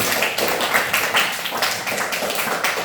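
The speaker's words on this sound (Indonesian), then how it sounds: "tepuk tangan sekali lagi" A classroom of primary school pupils claps hands together in a quick, rhythmic group pattern, a dense and lively patter of many palms that keeps going throughout.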